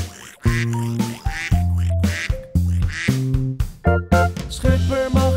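A voice imitates a duck, quacking in a Dutch children's song over a clear musical backing, the short quacks repeating rhythmically and close up, with no other talk.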